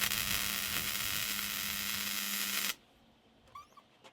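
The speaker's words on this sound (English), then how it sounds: "Okay, here we go. First plug weld." Plug welding a car boot floor panel: a loud, steady crackling sizzle of the weld that runs for under three seconds and stops abruptly, followed by faint clicks in near silence.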